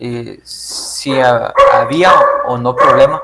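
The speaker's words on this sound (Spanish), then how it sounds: "perdón por mis perros" Dogs barking in a home, a few sharp barks breaking in near the start and then mingling under a man's speech that continues through the rest.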